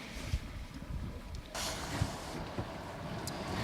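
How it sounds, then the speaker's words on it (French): Wind gusts buffet the microphone in low rumbling bursts, with a broader rushing surge about halfway through, aboard a sailboat tacking off the Île de Ré. "Allez, le vent monte."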